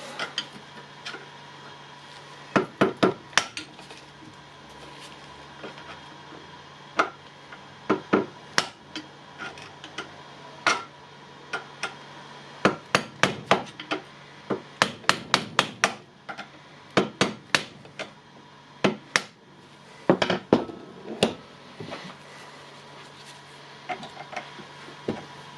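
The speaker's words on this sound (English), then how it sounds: "now I will try to punch the nut down" Scattered sharp metallic taps and clicks while punching a nut down on a Milwaukee angle grinder with a broken gear housing, irregular clusters of close strikes over a faint steady background hum.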